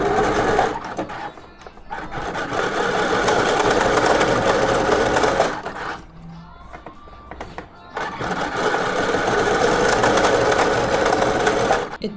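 A sewing machine runs in fast, loud bursts while sewing shirring on fabric, with short pauses between the rapid mechanical clattering runs.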